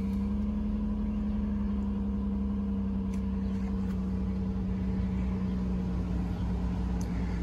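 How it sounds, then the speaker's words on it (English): A van's air conditioner blows air with a steady low hum and whooshing fan, its compressor motor not engaging, continuous and close with no change in tone and a few faint clicks. "See, it blows air, but the little motor's not kicking in."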